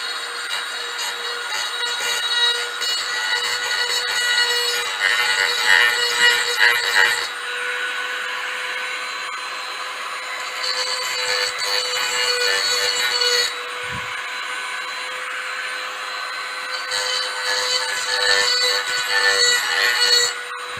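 A Dremel rotary tool grinds burrs off a soft-metal 50cc engine part, a continuous high whine whose pitch and loudness rise and fall as the bit bites, close and loud with no talking.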